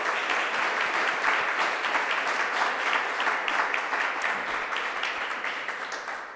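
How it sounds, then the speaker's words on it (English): An audience at a county Veterans Day commemoration gives a warm round of applause for a former Director of Veteran Affairs, with sustained, dense clapping that holds steady and then tapers slightly near the end, with no talking. "please extend another warm round of applause"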